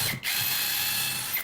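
A drilled hole is countersunk during the build of a homemade laser CNC machine, heard as a short, steady, close grinding whir from the tool that cuts off abruptly.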